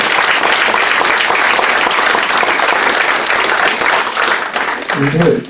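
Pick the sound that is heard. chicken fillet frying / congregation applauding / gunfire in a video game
congregation applauding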